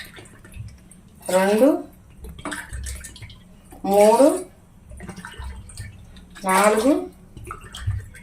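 Glasses of water are poured into a cooking pot for Maggi noodles, giving three separate splashing pours spaced a few seconds apart while a voice counts aloud between them.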